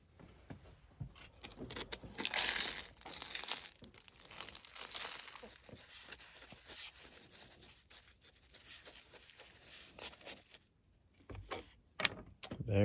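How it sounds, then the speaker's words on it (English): Potting soil poured and scooped into a bonsai pot fitted with a drainage screen over a hole cut in its base, a walnut tree being repotted; gritty crinkling and rustling pours with scattered sharp taps, close and fairly loud, no talk. "So let's get some soil in there."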